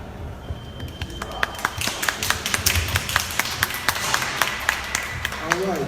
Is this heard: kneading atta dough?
no